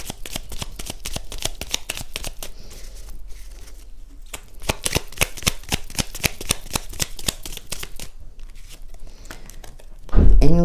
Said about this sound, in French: on termine par une petite carte de l'oracle de l'intuition pour les Gémeaux